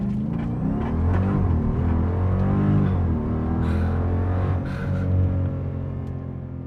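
A 2014 Jeep Grand Cherokee SRT running on E85 launches at full throttle, a loud, close engine roar whose harmonics sweep up through several gear changes, holding strong for several seconds with no talk.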